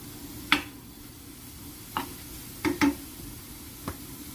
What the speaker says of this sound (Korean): 양념을 해서 볶아줘요